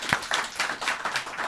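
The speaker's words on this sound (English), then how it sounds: "Give them a round of applause for this." Scattered clapping from a small audience at an event with Lin-Manuel Miranda and Eisa Davis, a brief, moderately loud patter of hands with uneven rhythm.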